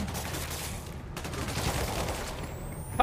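Rapid gunfire bursts from a Spider-Man video game, a dense steady fusillade of shots filling the clip with no talk over it.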